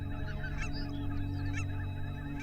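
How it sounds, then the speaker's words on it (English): Large flock of geese nesting on coastal meadows, honking continuously in overlapping calls, a dense steady chorus at moderate distance with no talk. "About 1 million individual geese come here to nest every year."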